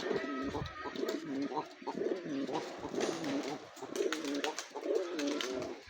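Several pigeons coo close by in overlapping, throaty rolling calls that repeat steadily, with faint rustling in the background.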